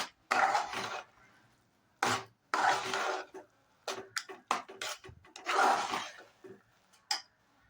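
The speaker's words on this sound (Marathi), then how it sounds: "बघा, असं चांगलं मिक्स करायचं आहे" Carrot halwa mixture being stirred in a pot: close, irregular bursts of thick scraping and rubbing, separated by short pauses, with no voices.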